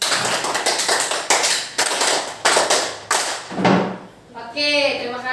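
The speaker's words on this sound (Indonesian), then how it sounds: "Tepuk 5 kali, tepuk 5 2 kali." A group of adults in an Indonesian teachers' session clapping together in quick rhythmic bursts, several sharp claps in a row repeated in sets, followed by laughter and voices as it ends.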